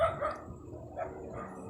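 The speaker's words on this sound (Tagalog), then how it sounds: "Ay, may aso." A dog barks a few times at night in a cemetery, sharp yaps fairly close, with a quieter whimpering gap between them.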